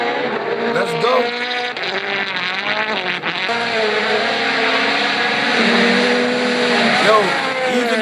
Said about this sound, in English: Even if I can't even get to see the car pass by, as long as I get to hear it.